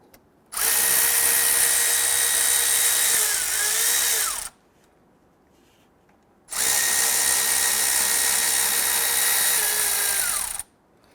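Two long, loud bursts of a power tool running steadily, each about four seconds with a pitch dip near the end, spinning bolts out of a 2006-2012 Toyota RAV4 3.5L V6, separated by a short quiet gap.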